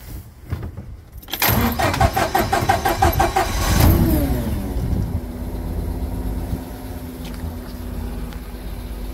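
A Mitsubishi forklift engine cranks with a rapid rhythmic churn, catches after a few seconds, and settles into a steady mid-pitched idle, close and fairly loud with no talking.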